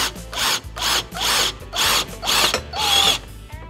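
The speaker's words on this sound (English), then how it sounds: "We're going to use a drill, Phillips head" A power drill with a Phillips head bit whirs in five or six short, loud bursts close by, its motor rising and stopping in a steady rhythm as it drives a screw into metal.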